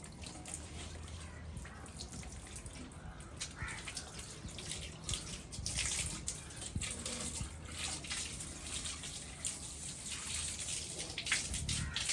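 Water runs steadily from a tap while a village kitchen is being washed, a faint continuous splashing and pouring with intermittent clatters, fairly distant and low in level.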